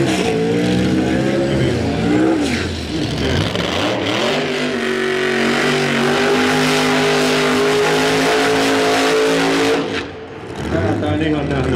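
A drag racing car makes a run at the FHRA Spring Nationals, its loud sustained engine roar holding steady for about ten seconds before briefly dropping, with a commentator talking over it.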